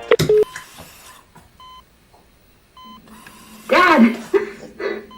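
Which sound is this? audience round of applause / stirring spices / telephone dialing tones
telephone dialing tones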